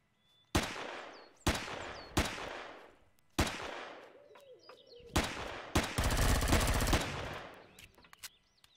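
Rifle gunfire aimed at a dinosaur in the Empyrion survival game: a series of sharp, loud single shots spaced a second apart, followed by a brief rapid burst and a few more cracks, with no talking.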